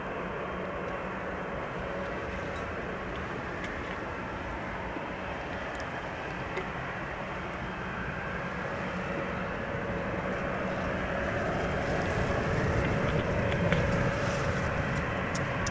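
A 16-year-old Embraer 195 airliner departing Amsterdam Schiphol for Warsaw, a steady distant jet roar that swells gradually louder over about sixteen seconds.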